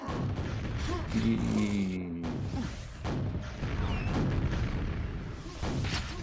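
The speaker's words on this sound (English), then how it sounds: "Can he rocket jump safely and back? Not back safely. Burns rockets." Rapid rocket fire and rocket-jump explosions in a QuakeWorld duel, a dense run of booming blasts and crashes with whooshing projectiles, loud and continuous through the stretch.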